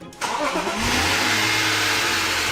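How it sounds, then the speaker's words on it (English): A BMW E36 engine, sitting unused for seven years and fitted with a new fuel pump, cranks briefly and then catches, settling into a loud, steady running rumble close by with no one speaking. "after replacing the fuel pump, I managed to get the engine started for the first time in over 7 years"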